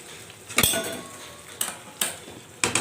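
Chicken curry is stirred in a metal pot and a lid is set on, giving a few sharp metallic clinks and clanks spaced unevenly, close and clear with no talk.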